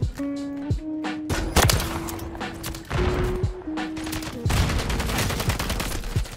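Rapid SPR rifle gunshots in a video game, loud and close, firing in quick bursts with sharp cracks and short pauses, over dense game noise.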